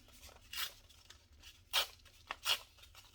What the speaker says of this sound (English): I'm going to rip these edges off